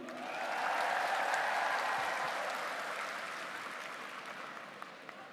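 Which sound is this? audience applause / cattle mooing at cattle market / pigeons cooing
audience applause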